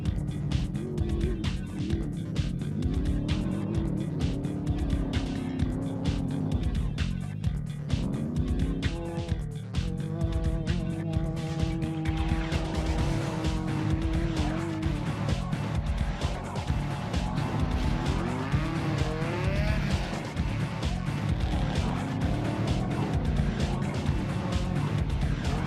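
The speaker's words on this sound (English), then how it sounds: "To win, cars have to make it around this difficult 60-mile course" Race cars tearing around a rugged sand and rock desert course near Las Vegas, engines roaring and revving loudly and continuously, with pitch sweeping up and down as they pass.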